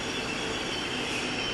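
A short-distance regional train for Trieste pulls into a station in Cividale, a steady broadband rumble of wheels and carriage noise with faint squeal, continuous and fairly close, no voices.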